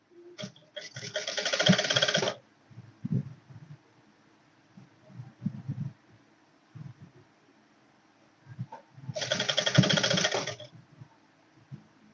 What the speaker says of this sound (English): So I'll continue sewing.